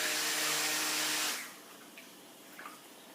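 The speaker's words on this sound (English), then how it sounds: "I have some water here just to clean off my" A stick blender is swished and rinsed in water for about a second and a half, giving a loud rushing, sloshing wash that abruptly stops, leaving near-silence with a few faint clinks.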